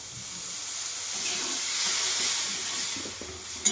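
Soft, steady hiss of semolina and spices frying in a pan, continuous and fairly close, with faint scraping and a small clink at the end.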